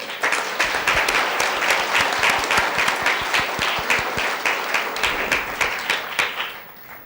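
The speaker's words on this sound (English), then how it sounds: "a big round of applause for Oliver" A room at a school board meeting breaks into a steady round of clapping for a student oratory winner, dense and sustained for several seconds before thinning out at the end.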